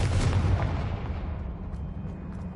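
Confringo fire-blast spell in Hogwarts Legacy going off as a loud, deep explosive boom with a bright burst at the start, then a long rumbling decay that fades over about two seconds, with no voices.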